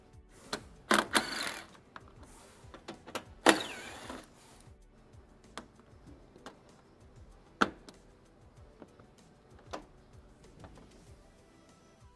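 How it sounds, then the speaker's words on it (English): Plastic push pins and 10mm bolts being worked loose from the top edge of a Subaru front bumper: scattered clicks, snaps and brief rattles at close range, with a couple of louder scraping bursts early on. "We'll start by removing the 5 plastic push pins plus 6 10mm bolts"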